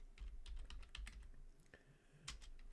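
Fingers clatter quickly across a computer keyboard while typing Nix OS update commands, a close burst of keystrokes followed by a brief pause and a couple more taps, including an enter key press.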